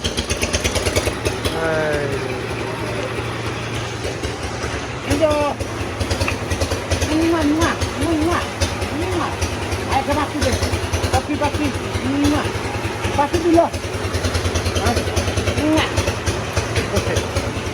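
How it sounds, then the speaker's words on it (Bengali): A paddy threshing machine's engine runs steadily during a rice harvest, a loud continuous close rumble that goes on throughout, while people talk over it. "আমরা এখন মেশিন স্টার্ট দিব ধান মারবো"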